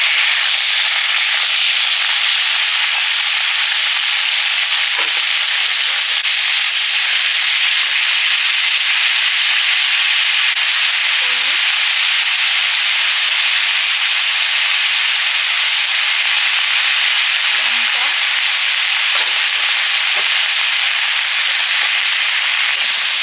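Vegetables fry in hot oil in a kadai, giving a loud, continuous hiss and sizzle that runs unbroken for over twenty seconds, with only small clinks scattered through it and no voices.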